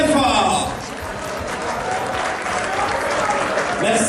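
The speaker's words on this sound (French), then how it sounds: "je voudrais qu'on acclame très fort" Loud, sustained applause from a gala audience honouring award recipients, filling the room steadily for several seconds, with a voice faintly over it at the start and end.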